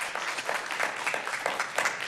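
Audience applause at a city council public hearing in Calgary, a short burst of scattered clapping from a modest crowd in a hall.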